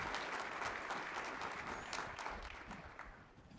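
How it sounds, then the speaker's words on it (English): A convention audience at a town hall with the sea service chiefs gives the panelists a round of applause, with steady, full clapping that tapers off gently. "Please join me in a round of applause for our panelists as we get started"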